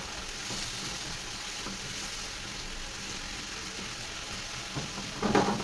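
Chicken seasoned with cinnamon and seven spices sizzles in a pan while being stirred, a steady close frying crackle with a few louder scrapes of the spoon toward the end.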